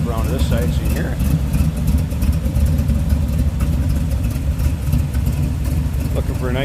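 Steady, even idle from a 1973 Chevrolet Corvette with headers, a close, constant low rumble that runs beneath a voice talking over it.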